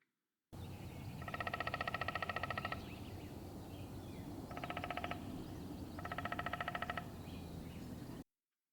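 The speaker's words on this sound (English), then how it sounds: "Here's a hairy woodpecker." Hairy woodpecker drumming: three fast, even rolls of rapid taps against wood, the first longest and the others shorter, clear and close with no voices in between.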